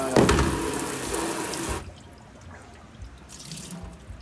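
A sink tap runs hard as something is rinsed under it, a close gushing splash that cuts off abruptly, followed by a few faint drips and small movements.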